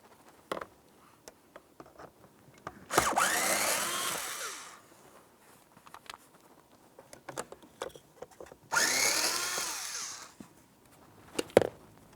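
Two bursts of a power drill backing out a pair of 5.5mm mounting bolts from the dash of a 2004-2015 Nissan Titan, each run lasting about two seconds with a rising and falling whine, separated by small clicks and handling noises.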